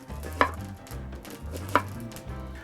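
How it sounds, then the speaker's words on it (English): Onions are chopped into thick slices on a board, a few close, crisp knife strikes spaced about a second apart with soft thuds between, and nobody speaking. "I'm gonna chop the onions, and they have to be chopped on little bit thicker slices."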